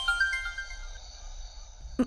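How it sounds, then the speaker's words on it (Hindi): A mobile phone ringtone plays: a repeating melodic tone rings steadily for about two seconds, followed by a short thump at the end. "माँ का फोन।"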